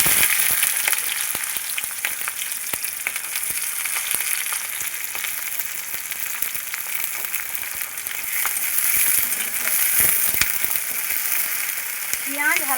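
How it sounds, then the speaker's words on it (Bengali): Onion and green chilli sizzling in hot mustard oil with five-spice tempering, a steady bright crackling fry close by with occasional stirring, no talk. "পেঁয়াজ হালকা করে ভেজে নেব।"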